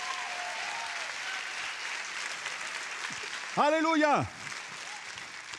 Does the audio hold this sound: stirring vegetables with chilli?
no